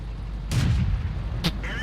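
A Churchill VII tank gun fires in World of Tanks, with two sharp, loud cannon reports about a second apart. The first lands with a heavy booming thud and the second is a quick crack, over a low engine rumble.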